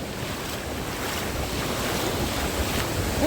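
Sea waves wash along the Black Sea beach at Odesa in late October, a constant loud surf roar mixed with wind buffeting the microphone, no speech.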